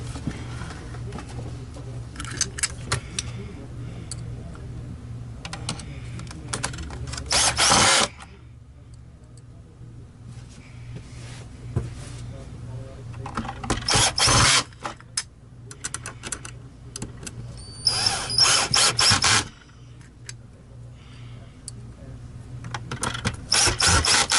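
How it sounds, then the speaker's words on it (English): A Simplicity Synchrony S30 sewing machine under repair is reassembled with screws driven back in. Several short whirring bursts from a power driver stand out over a low steady hum, with quiet handling clicks between them. "time to reassemble all the screws"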